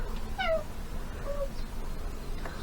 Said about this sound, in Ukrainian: Котики у нас підростають, вже бігають